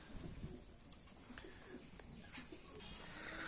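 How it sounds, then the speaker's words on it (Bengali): Tumbler pigeons, mostly brought from Bangladesh, coo softly in a loft, with low repeated cooing under a steady background hiss and a few faint chirps. "তো এখানে যে কটা পায়রা আছে ম্যাক্সিমাম পায়রাই বাংলাদেশ থেকে আনা"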